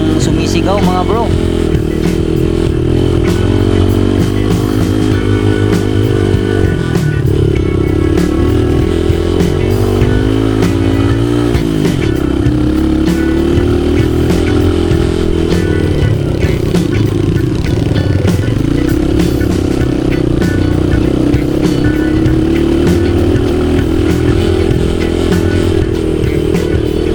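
A Microbike MX150XR motorcycle engine strains up a steep hill. It is loud and close the whole time, its whine rising and dipping as the revs change over rough ground with occasional clatter.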